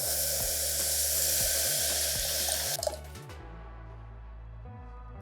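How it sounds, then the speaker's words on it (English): Liquid stock pours steadily into a pan of toasted farro, a continuous rushing splash that cuts off midway, leaving a quieter low hum. "Right now, add your stock straight in."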